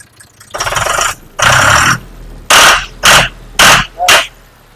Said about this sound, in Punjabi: ਇਹਨੂੰ ਸਟਾਰਟ ਕਰੀ ਆਪੇ ਦੀ ਵੜਕ ਤਾਂ ਦੇਖ ਲਈਏ ਯਾਰ ਕਿਉਂਕਿ ਲੱਗੀਆਂ ਤਾਂ ਪਾਈਪਾਂ ਹੋਈਆਂ ਨੇ